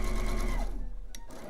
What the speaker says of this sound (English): So there, I'm past that seam. Now I can sew to my next one.